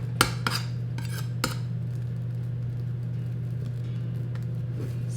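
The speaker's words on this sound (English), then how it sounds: "now we're going to smooth it down with a spatula" An oiled spatula smooths and presses vanilla marshmallow mixture in a pan, with a few sharp metallic clinks and scrapes early on, then a quieter steady hum underneath.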